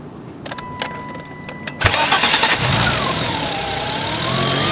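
A car engine that sometimes freezes up in cold weather starts after taps under the open hood: a few light clicks and clinks, then a sudden crank and catch into a loud, steady close idle.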